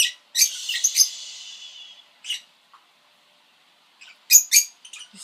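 Small birds chirping indoors-audible from outside, bursts of high, rapid twittering and squeaks that come and go with quiet gaps between them, fairly close and bright.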